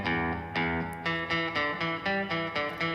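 An electric guitar strums chords in a steady rhythm, about a strum every quarter second, with a bright, slightly driven tone, played alone.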